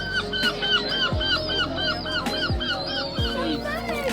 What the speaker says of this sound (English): Seagulls right there.